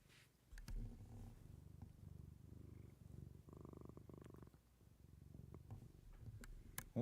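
A cat purring right beside a microphone, a faint, low, continuous rumbling purr in a quiet room.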